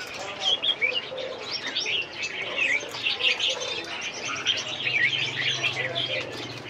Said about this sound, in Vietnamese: Đuôi dài, đấy, giọng hót rất hay.